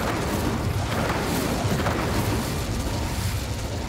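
A fire spell, Incendio, is cast in the Hogwarts Legacy game, a loud continuous roaring whoosh of flame with broadband crackle, steady and close throughout.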